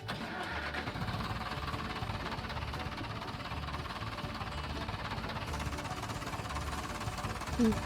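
An Ursus C-360 tractor engine, recently overhauled, cranks and starts, then runs with a steady low rumble close by for several seconds, rising slightly in loudness at the end.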